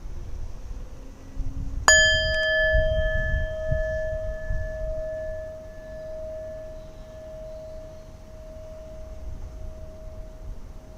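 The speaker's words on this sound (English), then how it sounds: "My wife says that I hit the bell too hard." A meditation bell struck once, quite firmly, giving a sharp clear strike followed by a long pure ringing tone that slowly fades over many seconds in a quiet room, with no talking.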